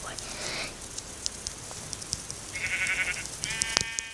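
Short sheep bleats in Minecraft, a couple of brief nasal calls over a quiet background with scattered clicks and light speech.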